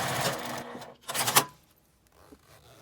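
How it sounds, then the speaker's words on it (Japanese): A sewing machine stitches fabric for a zipper pouch along one side, running in two short close bursts with a brief pause between and quiet after. "最初のこの右側を縫うときはもう待ち針はつけずに布に沿わせて縫っていきます。"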